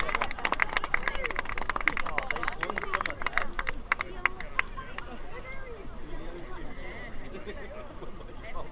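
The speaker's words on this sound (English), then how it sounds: "So a big round of applause" A crowd on the Menai Strait shoreline at a raft race claps for the Endeavour Trophy winners, a burst of sharp, scattered applause that thins out into chatter and murmuring voices.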